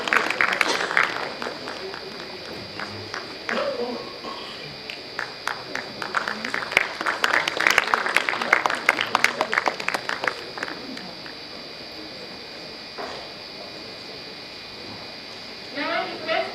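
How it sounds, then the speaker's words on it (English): Audience at a teachers' programme clapping during a token presentation, scattered hand claps building into a brief burst of applause mid-clip, with talking before and after and a quieter room between. "Please clap."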